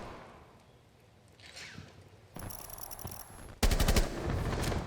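Video game gun fire arriving in two bursts: a lighter stretch of shots midway, then a loud rapid volley of automatic fire near the end after a quieter opening.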